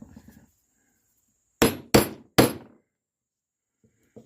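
Three sharp, close hammer strikes ring out in quick succession as gasket holes are punched on a Campbell Hausfeld air compressor, with a faint rustle before and otherwise quiet.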